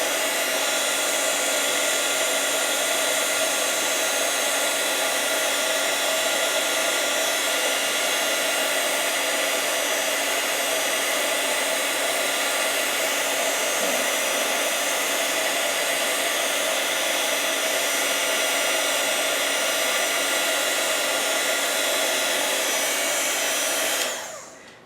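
Heat embossing tool blowing hot air for card and paper crafts, a loud steady whirring hiss held close for the whole stretch before cutting off at the end.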